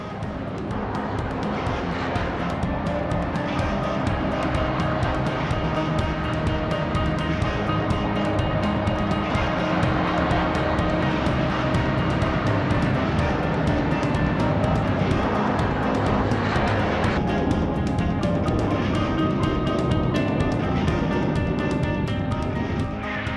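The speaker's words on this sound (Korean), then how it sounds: "리더를 선두로 시속 250km로 활주로를 질주하는 8명의 조종사들." T-50 Golden Eagle supersonic trainer jets of the Black Eagles team race down the runway at takeoff, a loud, sustained engine roar that stays dense and constant throughout, with no talk.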